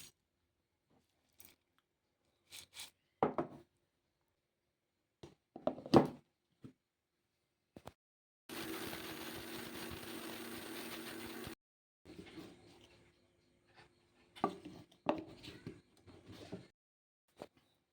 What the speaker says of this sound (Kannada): ಈಗ ಮಿಕ್ಸಿಗೆ ಹಾಕಿ